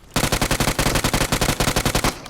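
Automatic gunfire in the mobile battle royale PUBG Mobile, a loud, close, sustained burst of about twenty rapid, evenly spaced shots that cuts off abruptly.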